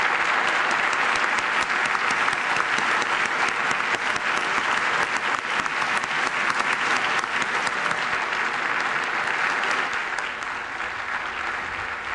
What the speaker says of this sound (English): he got a lot of applause at the end of his ranting there